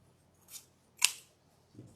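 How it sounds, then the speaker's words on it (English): Scissors cutting material while making a fall welcome wreath, two or three short crisp snips with a sharp slipping snap in the middle, close and quiet with no voices. "My scissors slid."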